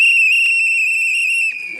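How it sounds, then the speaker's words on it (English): A whistle blown in celebration during live election-results coverage shrills out as one loud, steady, piercing tone for well over a second, then cuts off abruptly. "these whistles are ringing loud"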